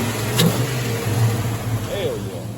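Box Chevy V8 engine revving after a fuel-feed fix, a steady rumbling idle with a rev rising and falling, heard close and loud with someone talking over it.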